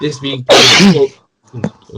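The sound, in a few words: sneeze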